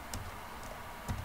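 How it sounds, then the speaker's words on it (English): Quiet computer keyboard typing as a command is entered, a few soft key clicks over a faint background hiss, close and brief. "we simply type this command and press enter"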